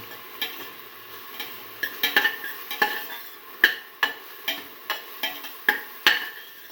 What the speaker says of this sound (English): Now let it fry.